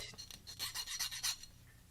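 A steel tool scraping a burr off a wet leather edge for a DIY money clip, giving a string of close, dry rasping strokes in quick succession with no talking.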